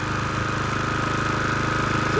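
A Honda GCV small engine running steadily after its carburetor was cleaned, a continuous loud putter with a rapid even firing pulse and a faint rise near the end.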